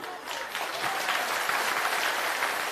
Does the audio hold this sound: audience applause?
yes